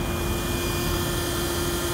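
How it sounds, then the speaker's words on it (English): A beehive vacuum draws bees into a filter sack, making a dense, unbroken motor drone with a steady whine on top. It stays loud and close throughout, with no talking. "It's a beehive vac."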